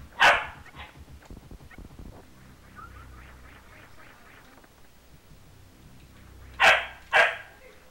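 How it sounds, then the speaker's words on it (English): Dog-like creatures in the Super Metroid video game bark: one sharp bark opens, then quieter game sounds and a soft musical tone pattern, and two more loud barks come close together near the end. "We got barky dog syndrome now."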